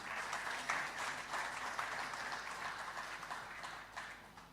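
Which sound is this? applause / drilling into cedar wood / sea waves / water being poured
applause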